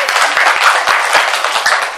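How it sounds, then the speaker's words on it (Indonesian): A classroom of students applauds in a steady, dense burst of clapping that carries on evenly throughout, fairly loud and close, with some voices mixed in. "Ya, tepuk tangan."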